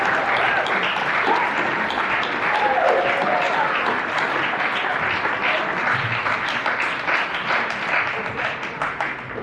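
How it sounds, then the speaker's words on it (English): Students applaud at a school athletic association awards dinner, a dense, steady round of clapping filling the room for the whole stretch and thinning slightly toward the end, with faint voices mixed in. "Students, please give a round of applause for all of those people right"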